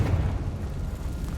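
A Confringo spell explosion in Hogwarts Legacy gives a deep booming blast at the start, then settles into a low rumbling tail.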